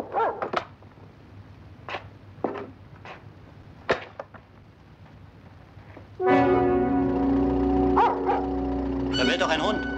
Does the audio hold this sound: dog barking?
yes